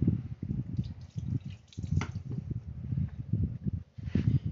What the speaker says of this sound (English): Let me get my hands wet.